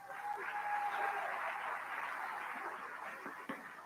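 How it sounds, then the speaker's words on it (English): An audience of parents and guardians at a middle school winter band concert claps for 7th and 8th grade band students, a soft, distant, sustained patter that fades gradually with a faint tone underneath. "give them a round of applause"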